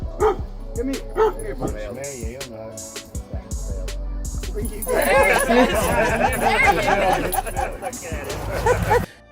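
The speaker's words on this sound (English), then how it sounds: "The dog didn't recognize his owner as he was watching him after almost 1 year, but things turned around instantly as the dog sniffed him" A dog whimpering, yipping and barking on meeting its owner again after about a year, high, wavering whines in repeated bursts, growing louder and more excited toward the end, close to the microphone.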